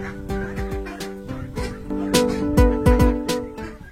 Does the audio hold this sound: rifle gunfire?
no